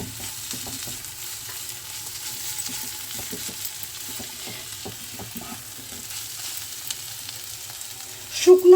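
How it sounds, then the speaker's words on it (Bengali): Coconut and mixed vegetables stirred and fried in a pan for a ghonto, a low crackling sizzle under repeated spatula scrapes and taps, steady and close, ending in a few louder knocks. "খুব ভালো করে এবার আমাদের নাড়তে হবে। নারকেলটা এ সময় দিয়ে দিচ্ছি।"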